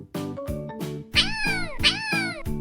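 A domestic cat gives two clear, high meows in quick succession, heard over steady, rhythmic children's music.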